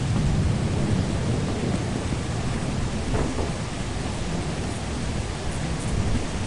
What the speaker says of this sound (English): I saw a lightning strike.